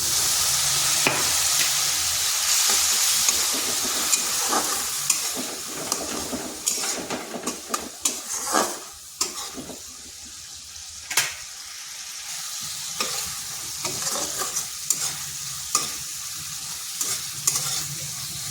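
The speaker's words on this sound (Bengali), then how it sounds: "মশলাটা কষানো হয়ে গেছে, দেখুন কড়াই থেকে তেল ছেড়ে যাচ্ছে।" Continuous sizzling of spice paste frying in oil in a wok, with repeated scraping and stirring clatters from a spatula throughout.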